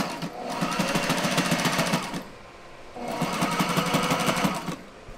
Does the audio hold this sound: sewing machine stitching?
yes